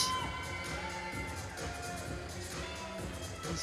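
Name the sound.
crowd cheering at swimming championships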